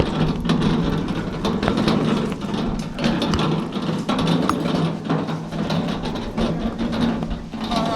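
A tractor engine runs steadily at a rural stone-wall building site, a continuous mid-low rumble that holds even throughout.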